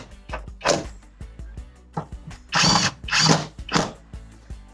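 Ratcheting and whirring bursts of a power tool tightening screws on the front seat of a Perodua Bezza car, several short uneven runs close by.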